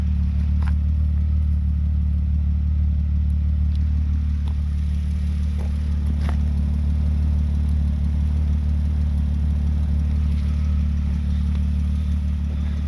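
A vehicle engine drones steadily and loudly as it climbs a snowy road on tires let down to about five or six pounds of pressure, with occasional clatter and no talking.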